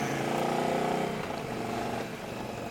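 An Indian Challenger motorcycle engine rumbles steadily with a deep, throaty exhaust note that sags slightly midway, continuous and fairly close.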